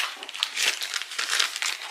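A plastic parts bag from a VEX robotics kit crinkles close up during unboxing, with bursts of crisp rustling and crackling that rise and fall irregularly for a couple of seconds, alone without voices.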